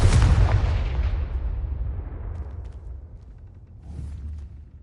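A Confringo spell blast in Hogwarts Legacy on PS4 Slim: one loud, booming explosion that rolls off into a long fading rumble, followed by a smaller crackling burst.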